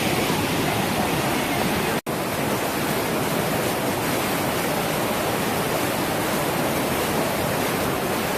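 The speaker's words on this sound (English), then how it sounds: "It's just enormous gusher of water." The spring at Tel Dan in northern Israel gushes like a river, a loud, constant roar of rushing water that stays unbroken except for a momentary dropout.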